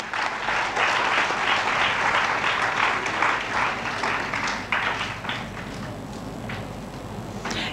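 A conference audience at a scientific meditation and stress event claps to welcome speakers onto the stage, loud, full applause with distinct individual claps that thins slightly toward the end.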